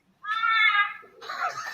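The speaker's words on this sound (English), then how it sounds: "it's a very strange sounding bird" A strange Australian bird gives a cat-like, meowing call: one drawn-out, wavering cry close to the microphone, followed by a rougher, noisier burst of sound.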